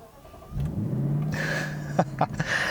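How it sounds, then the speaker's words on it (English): A 2018 Lexus LC500 engine starts and revs, a low rumbling drone swelling with a few sharp throttle blips toward the end, fairly close. "I seriously never get tired of the way the engine just revs up every time you start it."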